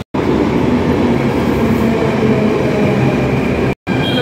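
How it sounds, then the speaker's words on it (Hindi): Delhi metro train rolling into a station, a loud steady rumble of wheels and carriage noise filling the whole stretch, briefly cut by two short dropouts. "मेट्रो आ गई है, मेट्रो का वेट कर रहे थे, अब बैठने लगे मेट्रो के अंदर।"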